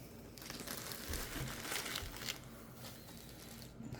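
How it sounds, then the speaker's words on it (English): Shredded paper from the dollar store crinkles and rustles steadily as it is stuffed into a small mini gift basket, a close, continuous crumpling texture with no voices. "I'm going to go ahead and fill it up with some shredded paper from the dollar store."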